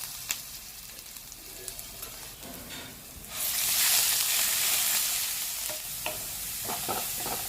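Crushed ginger, garlic and green chili hitting hot oil for Malabar chattipathiri, a close, loud sizzle swelling suddenly midway and holding steady with a few stirring scrapes, no voices.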